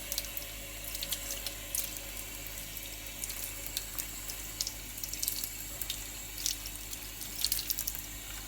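A kitchen tap runs steadily while food is rinsed beneath it, a soft constant water hiss with faint splashes and clinks.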